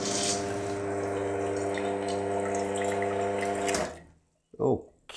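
Wega espresso machine's pump runs steadily with a droning hum while drawing water up from a jug, then cuts off abruptly, followed by a short burst of speech.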